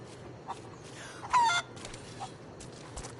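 Video-game chicken, squawking once in a loud, sharp burst with a few softer clucks scattered around it, standing alone without any talk.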